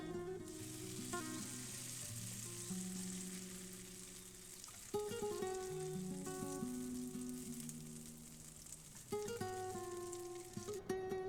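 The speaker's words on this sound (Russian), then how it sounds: "И жарю на небольшом огне до подрумянивания." Zucchini and potato patties frying over low heat in a pan, a steady soft sizzle throughout with occasional crackles and light clinks of utensils.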